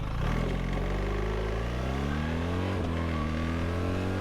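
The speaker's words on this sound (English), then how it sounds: "Did stick the clutch and rev it." A BMW R 1300 GS Adventure motorcycle engine revs with the clutch pulled in, a loud close rise in pitch that dips briefly and climbs again, with no talk over it.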